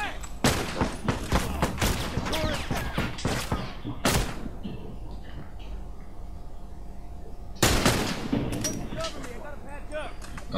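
Sharp gunshots in The Last of Us Remastered, scattered single cracks and short clusters with a lull in the middle, close and loud, mixed with thuds and faint game noise while a voice talks at times.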